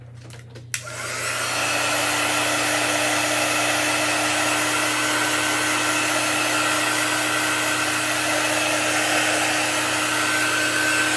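A hair dryer blows steadily at close range to dry a chalk-painted craft surface, starting after a brief click and holding a loud, even whir with no talking.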